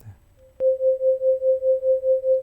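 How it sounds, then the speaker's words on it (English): A triangle-wave synth tone in Ableton Live starts abruptly after a short pause, a steady pitched hum pulsing evenly about four times a second under free-running modulation. "A triangle wave."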